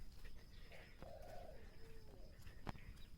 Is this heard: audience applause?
no